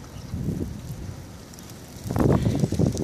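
Strong wind gusting during a heavy New York City snowstorm, a broad rushing roar that swells in two bursts, the second louder and closer, with no voices.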